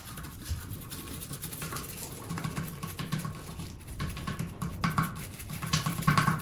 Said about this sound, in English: I start with the small brush, scrubbing corners and tight gaps that the big brush can't reach.